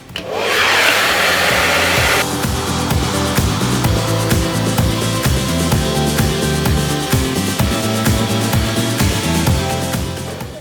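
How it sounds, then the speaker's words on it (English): A hair dryer blow-drying hair while bangs are styled, roaring loudly and steadily the whole time with a faint rhythmic pulsing underneath. "So I have to blow dry it first, and then I start working with my hot tools."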